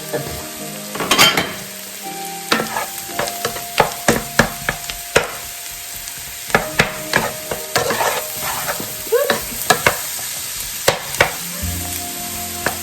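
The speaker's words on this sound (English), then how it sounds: "Now we can add the mushrooms. The portobello and cremini, as well as the white mushrooms." Portobello, cremini and white mushrooms frying in a pot, with a soft continuous sizzle under frequent sharp clacks and scrapes as a spoon stirs them.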